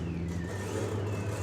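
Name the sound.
Hillegas classic American sprint car engine at hill climb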